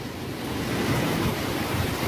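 Strong typhoon Krathon wind roars steadily in Taiwan, a dense, loud rushing like surf that swells slightly and never lets up.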